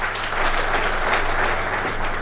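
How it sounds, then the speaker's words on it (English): An audience at the AGRF 2021 Presidents' Summit applauds Dr. Vera Songwe with a steady, dense wash of clapping that holds at an even level throughout and is heard on its own, without talk. "let's give her a round of applause as well."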